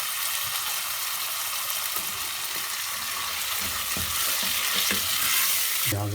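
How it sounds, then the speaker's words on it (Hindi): Onions fry lightly in a pan for beef keema, giving a steady close sizzle with a few soft stirring scrapes, ending in a sharper clatter. "प्याज ज़्यादा हमने फ्राई नहीं करने, हल्के से बिल्कुल इसको फ्राई करना है"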